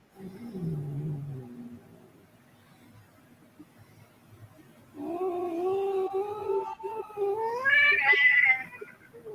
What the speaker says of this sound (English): Someone is not a happy kitty